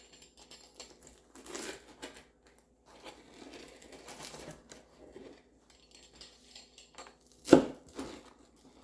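A knife cuts through a homemade pizza with a couple of faint crunchy strokes early on, then one sharp, louder crunch near the end, set against quiet background noise.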